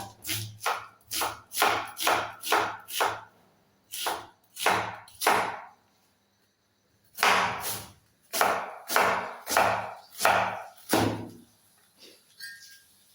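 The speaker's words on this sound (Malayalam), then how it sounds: "നമുക്ക് സവാള എല്ലാം അങ്ങ് അരിഞ്ഞെടുക്കാം." Knife chopping onions on a board, a fast, steady run of crisp close chops in bursts, with a brief pause partway through.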